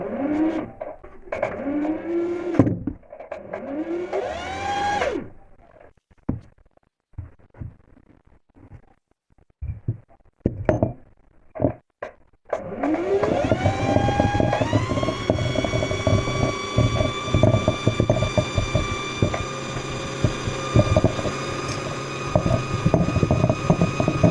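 A sewing machine winds thread onto its bobbin. After some brief clattering and quiet handling, the motor settles into a steady, whirring hum that runs on with a high, even tone, and no one speaks.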